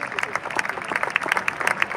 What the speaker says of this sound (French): On acclame pour le Seigneur. Acclame bien pour le Seigneur.